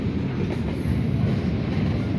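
A Bombardier NG78 low-floor tram runs through Kraków, its steady rolling rumble and rail noise filling the cabin at close range, loud and constant with no speech.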